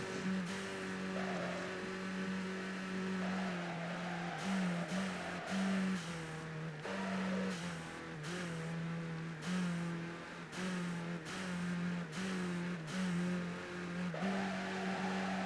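Car engine in the Midnight Club 3 Dub Edition Remix street racing game, revving hard through repeated upshifts: the pitch climbs and drops in a rhythmic series of gear changes, loud and constant with no talk.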